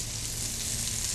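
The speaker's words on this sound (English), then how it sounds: "The reason I'm sauteing the mushrooms along with the onions and garlic is I want to pull out the flavor of the mushrooms by sauteing them" Mushrooms saute with onions and garlic in a hot pan, giving a steady, even sizzle of frying with no pauses or voices.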